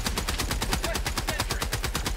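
A Gatling sentry in Helldivers 2 fires a rapid, unbroken stream of shots, loud, close and evenly spaced, with no talk over it.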